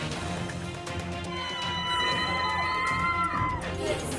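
A crowd cheers and shouts at a Tamil Nadu election victory celebration outside actor Vijay's residence, with high whoops and children's voices rising over a dense, sustained roar.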